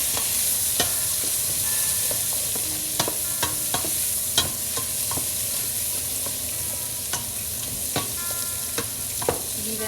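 Onions frying and being stirred in a pan while making a Sri Lankan mutton curry, a continuous close sizzle broken by repeated scraping and clacking strokes of a spoon against the pan.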